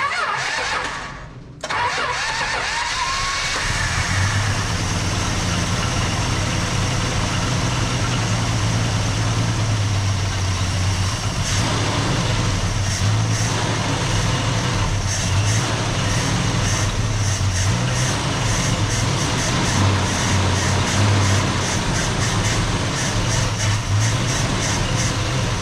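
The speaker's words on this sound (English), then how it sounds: "We need to prime that friggin' pump." A small water pump engine cranks briefly, catches and then runs at a steady, loud idle for the rest of the stretch.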